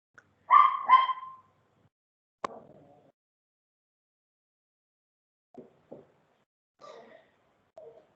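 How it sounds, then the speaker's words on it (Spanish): A dog barks twice in quick succession close by, followed by a few fainter, shorter yips and soft sounds spaced out over several quiet seconds. "El perro sí volvió."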